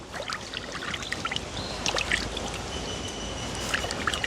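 About 3 kg of trevally is rinsed by hand in water in a village setting, with a continuous soft sloshing and trickling under scattered small splashes and clinks, close by and fairly quiet.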